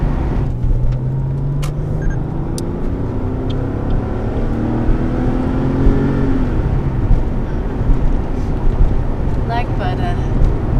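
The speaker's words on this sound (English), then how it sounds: "that's our quick little drive in the 993, just to sort of warm it up" A Porsche 993 drives on a road after a cold start, its engine droning steadily with a gradually rising pitch as it accelerates, while people talk over it.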